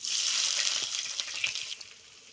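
Onions, bay leaf, cinnamon and cloves sizzle in hot oil for green chilli chicken, a bright steady frying hiss with small crackles that slowly settles.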